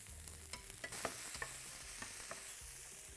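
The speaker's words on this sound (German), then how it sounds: "Spargel dazu braten." Peeled, cut asparagus pieces fry in a little olive oil in a pan, giving a steady crackling sizzle broken by a few scraping stirs, close and fairly quiet, with no voices.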